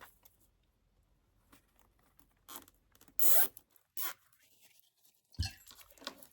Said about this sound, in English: Pull my zip tie tight.